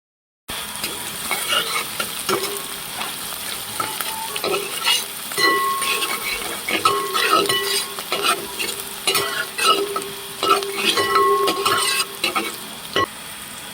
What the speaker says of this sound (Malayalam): ഇനി അത് ചൂടാകുമ്പോൾ കടുക് ഇട്ടിട്ട് അരിഞ്ഞു വെച്ചതെല്ലാം കൂടെ ഒന്ന് വഴറ്റിയെടുക്കാം.